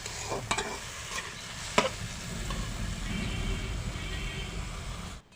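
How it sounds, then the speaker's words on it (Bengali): Okra frying in a pan with steady sizzling throughout, broken by a few sharp scrapes and clicks as the pieces are stirred; close and moderately loud, with no talking. "আর এদিকে দেখো আমি ভেন্ডিটা ভেজে নিচ্ছি"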